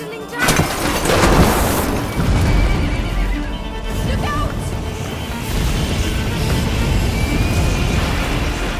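A horse whinnies loudly amid a chaotic scene in the video game A Plague Tale: Innocence, with hooves clopping and a rumbling, crashing background throughout.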